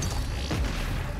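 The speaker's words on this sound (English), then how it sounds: "Sticky bomb." Sticky bomb explosion in Doom Eternal, a short, deep, loud boom with a low rumbling tail amid dense game noise.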